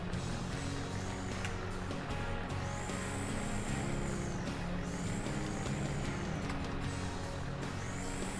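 A heavy truck in Farming Simulator 2015 runs continuously with a steady engine rumble, pulling a load, and several loud air brake hisses and squeals rise over it.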